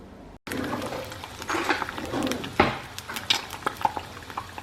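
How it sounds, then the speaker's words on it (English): Eggs frying in a pan in a home kitchen at lunchtime, with clattering utensils and pan scrapes over a soft sizzle, a sharp knock partway through and scattered clinks toward the end. "I was just frying my eggs"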